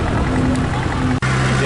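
A vintage tractor engine strains hard while hauling a pulling sled at a tractor pull, a steady loud low drone with a brief dropout near the end, the wheels spinning under the load.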